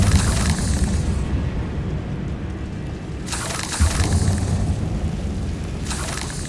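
Booming magical blasts from the Confringo fire spell in Hogwarts Legacy burst loud and close, each followed by a rumbling decay, with a second blast arriving a few seconds after the first.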